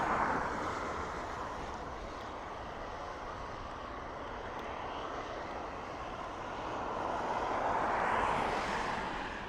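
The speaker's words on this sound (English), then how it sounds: "So next up we've EI5, our ATR 72-600." A distant ATR 72-600 turboprop airliner at Dublin Airport, heard as a faint, steady engine drone that swells slightly near the end, alone without talk.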